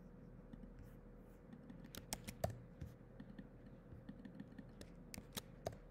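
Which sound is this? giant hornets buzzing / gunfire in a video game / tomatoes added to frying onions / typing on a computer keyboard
typing on a computer keyboard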